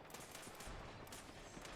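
Scorpius turrets fire in the game Destiny 2, a dense, steady rattle of automatic shots that holds at an even loudness for under two seconds with no talking.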